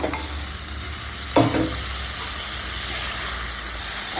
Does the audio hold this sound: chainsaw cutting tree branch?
no